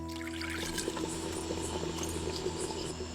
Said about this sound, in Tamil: குழம்புக்கு தேவையான அளவு தண்ணியை ஊத்தி கொதிக்க வச்சிடலாம்